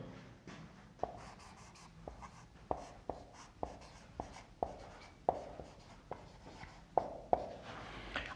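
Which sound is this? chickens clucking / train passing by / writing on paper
writing on paper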